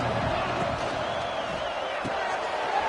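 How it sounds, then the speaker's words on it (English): Football stadium crowd before a big third down in an Ole Miss game, a loud continuous roar filling the space while a commentator talks over it. "hotty-toddy, gosh almighty, this crowd is ready"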